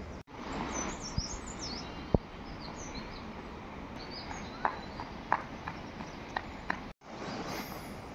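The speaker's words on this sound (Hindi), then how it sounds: "वृक्षों में जो चिड़ियाएं हैं, विभिन्न प्रकार की चिड़ियाएं, उनकी चहकने की आवाज़ हमारे कानों तक पहुंच रही है" Various birds chirp in trees outdoors, with faint high tweets scattered over a steady hiss of open-air ambience and a few sharp knocks or hoof-like clops, no talking.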